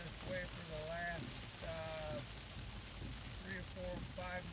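Heavy rain drums steadily on a moving car, a dense broadband wash of noise throughout, while someone talks underneath it.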